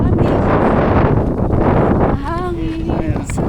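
Wind buffets the microphone on Tree Island, Siargao, a steady low roar for most of the clip, joined near the end by a brief whistling tone and faint distant sounds.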